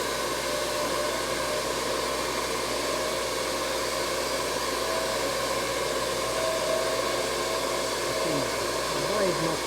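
A sawmill blade cuts steadily through a small log, giving a continuous, even, close whine and hiss that never pauses, with no talking.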